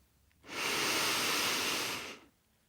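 A single long, deep breath drawn in during a progressive muscle relaxation meditation, a steady airy rush lasting nearly two seconds, close and clear with no talk.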